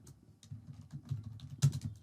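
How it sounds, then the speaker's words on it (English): Typing on a computer keyboard produces a soft, steady patter of muffled key taps, close and fairly quiet, with one slightly louder keystroke near the end and no voices. "let me type my name"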